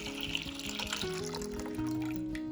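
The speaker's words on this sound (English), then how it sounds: "Fill a pot with enough water to fully cover the jar and the lid." Tap water runs steadily into a pot, filling it deep enough to cover canning jars and lids for sterilizing; a continuous close splashing hiss with a faint tonal layer underneath.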